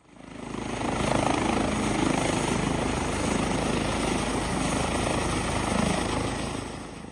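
An air ambulance helicopter on a medical call fades in quickly, then holds a steady, loud rotor and engine roar close by. It eases off slightly at the end, and no voices are heard.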